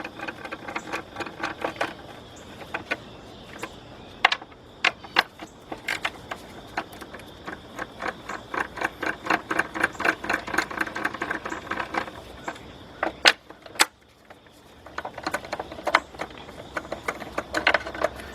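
Rapid metallic clicking of a ratchet wrench removing engine bolts on a 2002 Chrysler PT Cruiser, in repeated bursts with brief pauses, close up and fairly loud.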